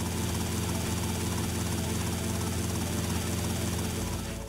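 Helicopter flying in Grand Theft Auto: Vice City, a steady loud rotor chop and engine drone running continuously and close, dropping off only at the very end.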